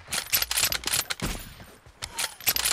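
Rapid Kar98 rifle gunshots in a team deathmatch video game, loud sharp cracks in quick irregular clusters with a brief lull midway, no talk over them.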